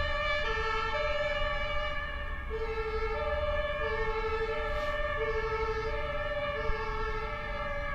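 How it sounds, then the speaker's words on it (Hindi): A 911 ambulance siren wails steadily at a distance outdoors in Germany, its rising and falling tones repeating over faint traffic rumble, with no voices. "जब भी मैं बाहर वीडियो शूट करता हूँ तो ये एक एम्बुलेंस की साउंड आ जाती है"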